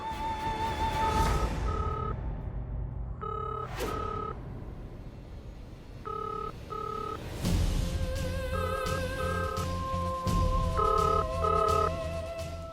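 A telephone rings unanswered: a beeping electronic tone repeats in short bursts with pauses, steady, over a low background hum.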